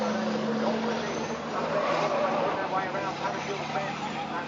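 Scania racing trucks, one with a MAN engine, battle side by side through a turn at Brands Hatch in British truck racing, a steady loud engine roar with some tyre scrub under continuous race commentary.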